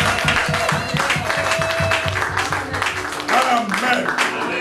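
A church congregation claps and cheers together during a Sunday morning service, dense continuous applause with voices shouting over it, loud and close throughout.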